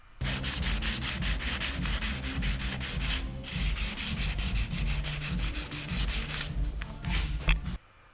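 Rapid strokes of a hand sanding block rasping back and forth along the rail of a poly surfboard during ding repair, close and steady for several seconds before trailing off into a few lighter, slower passes.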